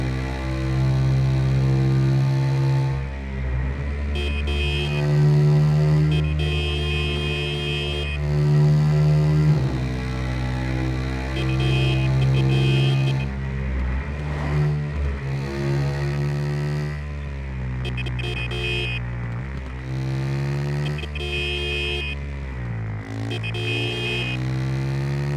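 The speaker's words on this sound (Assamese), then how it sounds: "টানেলত কি চাউণ্ড আহে বাইকৰ।" A Kawasaki KX 450 motorcycle rides through a tunnel, its engine note droning and rising and falling in pitch through repeated revs and shifts, loud and echoing off the enclosed walls.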